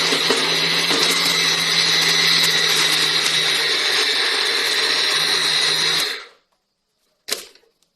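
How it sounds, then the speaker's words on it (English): Blender whirring loudly as it grinds bread into crumbs, a steady high motor drone lasting about six seconds before cutting off, followed by a short clunk. "this is the last one that I'm blending"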